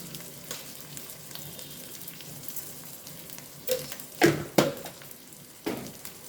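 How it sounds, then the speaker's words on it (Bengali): Spice mixture with tomato and a little sugar frying in a pan for a vegetarian paneer curry, a soft steady sizzle broken by several louder stirring scrapes and clatters near the end. "মশলাটা আমি ভালোভাবে কষিয়ে নেব"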